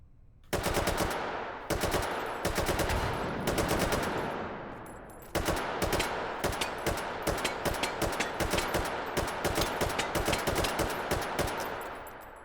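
Full-auto bursts from an RPK light machine gun in the VR shooter Hot Dogs, Horseshoes and Hand Grenades: several long, loud, rapid strings of shots with short pauses between them, then a long sustained burst, with no talking over it.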